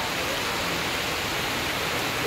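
Rain falling over a grassy field during the rainy season, a steady, even hiss of dense drops, close and constant, with no talking.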